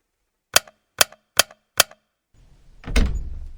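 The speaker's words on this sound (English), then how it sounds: "We can go ahead and type this password in there." Four evenly spaced crisp clicks as keypad buttons are pressed to enter a password in a Unity mobile game, followed by a louder, longer clunking burst like a door unlocking or opening.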